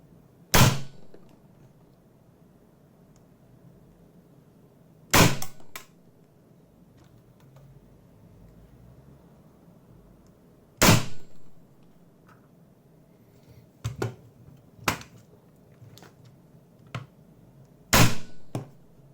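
An Umarex 2018-version UMP45 gas blowback airsoft gun, Stage 1, fired indoors on gas in single shots and two-round bursts: several sharp, loud cracks spaced seconds apart, some in quick pairs, with quiet between them.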